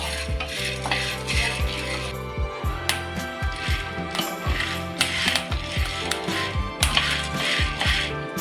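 Dry val (field beans) roast in a pan with a continuous clatter of beans rattling and tapping against the metal, mixed with scraping stirs and scattered sharp pops and clicks, close and busy with no talking.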